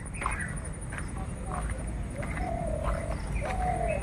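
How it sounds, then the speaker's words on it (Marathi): Faint bird calls come through over a steady rumbling outdoor background, a few short chirps and a longer whistled note scattered across the clip. "पक्ष्यांचा आवाज येतोय"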